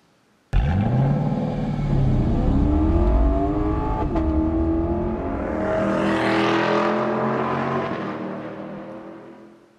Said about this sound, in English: this LC500 is what the more emotional Lexus looks like to me. And it's also what it sounds like.